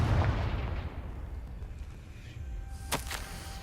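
A Confringo fire spell explodes in Hogwarts Legacy: a deep, rumbling blast that decays slowly, followed by a sharp, crackling burst near the end.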